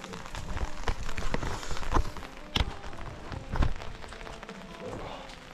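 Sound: rain falling

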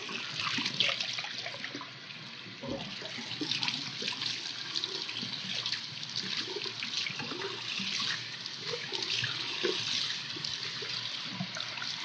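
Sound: hot water running from tap

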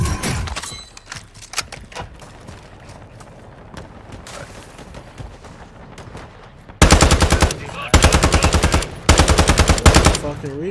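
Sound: machine gun firing in a video game

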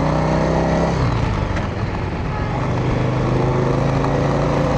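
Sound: Yamaha Virago motorcycle with suicide shifter pulling away

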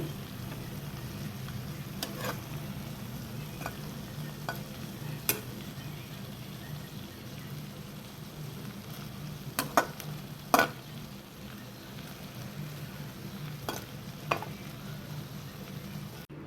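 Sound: tomatoes simmering in pan for tomato chutney

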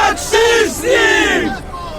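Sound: crowd shouting loudly

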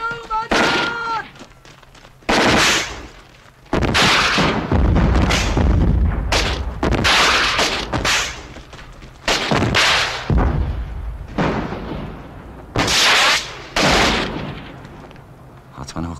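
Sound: gunfire and explosions in a war film battle

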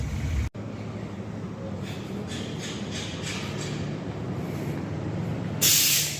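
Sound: spray painting a car's rear bumper

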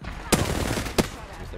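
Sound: gunfire in Apex Legends video game

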